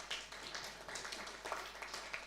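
A small audience claps at a COP27 conference session on gender and climate justice. The clapping is soft, scattered and fairly distant, a steady patter of overlapping hand claps with no voices on top.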